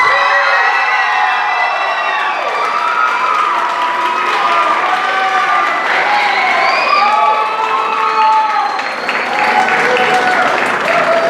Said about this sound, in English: Can we please give a round of applause for Jack Girl and Daimara?